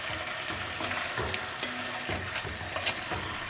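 Tomato sauce poured into a pot of beef caldereta stew, a sizzle and gentle bubbling with faint stirring scrapes and light clicks, steady and close, no talking.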